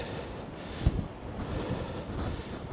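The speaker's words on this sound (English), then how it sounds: "Clearly very windy." Wind buffeting a microphone outdoors on a coastal walk near Castletown on the Isle of Man, a low rumbling roar with gusty swells and one sharp thump.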